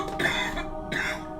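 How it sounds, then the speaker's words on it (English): Two short, harsh coughs from a person nearby, close and fairly loud against a low background hum. "I'm gonna cough."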